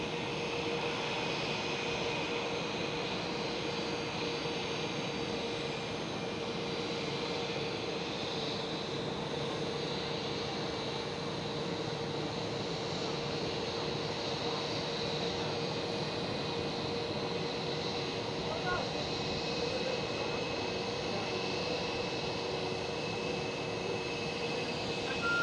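Jet airliner taking off from runway 18 Left at Amsterdam Schiphol, a steady, continuous distant engine roar holding at an even level throughout with no talking.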